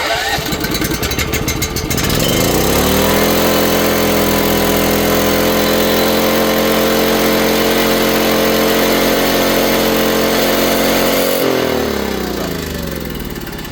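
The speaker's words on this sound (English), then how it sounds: "Generator does work. So we'll just choke it real quick." A generator mounted on a 2019 Ford F-550 crane truck cranks briefly, catches and settles into a loud, steady running drone for about ten seconds, then winds down near the end.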